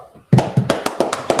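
A few people clap in a room, sharp distinct claps in a loose irregular rhythm, close and fairly loud, about eight hits in quick succession.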